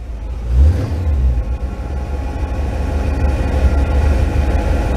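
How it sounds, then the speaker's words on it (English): A 1957 Chevy engine cranks, catches with a thump, then settles into a steady low rumbling idle, loud and close throughout. "you turn the key and she fires right up"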